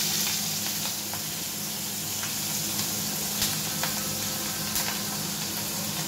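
Nigella seeds and four green chillies sizzle steadily in hot oil beside a fried fish head, a continuous close frying hiss with small crackles and pops, no voices.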